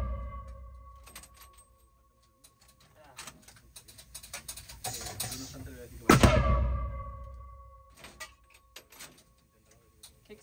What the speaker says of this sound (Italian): la prova di sparo consiste nel tirare 3 cartucce del commercio nel